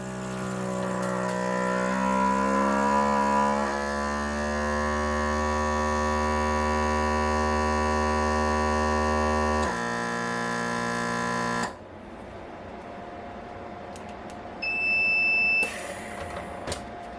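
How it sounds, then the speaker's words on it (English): A vacuum sealer's steady machine hum and drone runs for about ten seconds while sealing a bag of onions, shifts pitch, then cuts off, followed by a few electronic beeps. "I'm going to go ahead and put my bag in my vacuum sealer."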